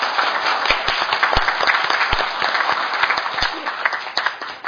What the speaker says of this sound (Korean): 여러분께서 한번 뜨거운 격려의 박수를 쳐주시면 좋겠습니다